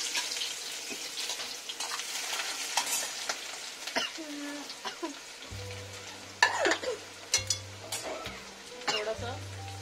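Onion, green chillies and garlic fry in a pan, giving a soft, steady sizzle with occasional stirring clatter and faint background noise.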